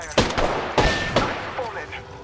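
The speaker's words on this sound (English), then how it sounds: "I'm taking fire." Gunfire in the battle royale shooter Apex Legends: three loud, sharp bursts roughly a half second apart, followed by quieter clattering effects, with a faint voice in the mix.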